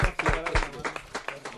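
Brief applause from a small audience at a university TV acoustic music program, heard as a run of distinct hand claps at a moderate level.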